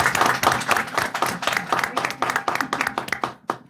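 Audience at a school board meeting claps for an honoree, a burst of separate, distinct hand claps from a modest group, fairly close and fading out toward the end.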